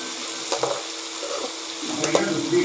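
Onion, garlic and tomato sizzle in hot mustard oil with mustard seeds for a dried anchovy curry, with steady frying hiss and a few spoon scrapes against the pan, no one speaking.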